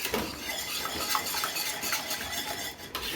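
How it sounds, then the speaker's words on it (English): A whisk stirring milk into a cheese sauce in a pot, a soft continuous swishing with light metallic clinks against the pot, fairly quiet and steady. "I'm going to grab my whisk for this and whisk this in"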